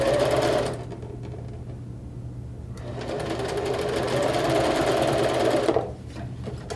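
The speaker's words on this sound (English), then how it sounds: "you put it in the machine right after the other one, and you just sew it" A sewing machine chain stitching fabric pieces one after another, close rapid motor whir in two bursts with a short quieter pause between them.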